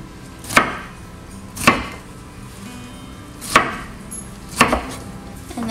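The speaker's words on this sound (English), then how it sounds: "I'm just gonna cut these into smaller bites so it's easier to pick up with my fork" Salad ingredients being cut into smaller bites with a knife on a board: four distinct, spaced, fairly loud chops landing at an irregular pace, close up with no talking.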